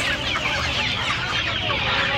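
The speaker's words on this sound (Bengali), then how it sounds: "এখানে দেখতে পাচ্ছেন সোনালি দেশি মুরগি আছে" Sonali desi chickens at a poultry market in Uluberia, a dense, steady chorus of clucking from several birds close by with continuous crowd and market bustle underneath.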